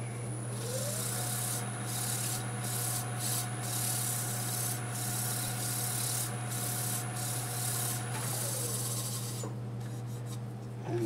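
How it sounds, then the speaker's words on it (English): A Scotch-Brite pad rubs steadily against turned wood spinning on a lathe, giving a continuous close abrasive hiss with a constant motor hum beneath it and no talk. "now I go over it with Scotch-Brite"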